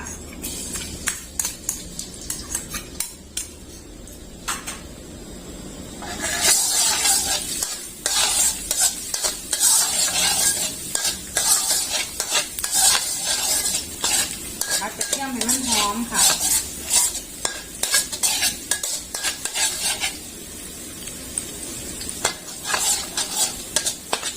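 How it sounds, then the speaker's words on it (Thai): Minced garlic frying in hot oil in a pan over a gas flame while being stirred with a metal utensil, a steady close sizzle with rapid, repeated scraping and clanking throughout. "เปิดแก๊สแล้วก็ใส่น้ำมันไว้แล้วค่ะ ใส่กระเทียมซับลงไปเลยค่ะ"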